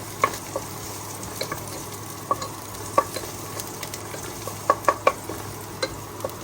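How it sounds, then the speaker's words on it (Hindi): Garlic sautés in a pan over the highest flame, a steady close sizzle with light metallic clinks and taps of a spatula stirring at irregular moments. "आ जाएगा गार्लिक, इसको कर लेंगे सॉटे."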